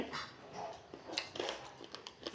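Dogs being fed make faint short whimpers and yips amid low background rustle, quiet and brief.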